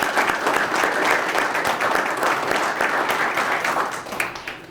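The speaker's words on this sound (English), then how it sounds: "Let's give all 7 of them another round of applause" Audience at a court graduation ceremony giving the graduates a round of applause, a dense, steady wash of clapping from a sizable crowd lasting the whole stretch, tapering slightly at the end.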